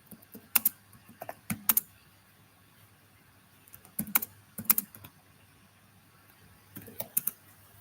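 Quiet computer keyboard typing comes in short clustered bursts of clicks separated by pauses, close and soft in an otherwise still room.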